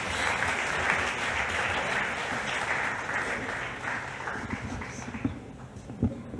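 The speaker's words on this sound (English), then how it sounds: "Big round of applause, everybody." Audience at the Hindustan Times Leadership Summit giving a big round of applause, a broad continuous roar of clapping that holds steady before thinning into a few louder scattered claps near the end.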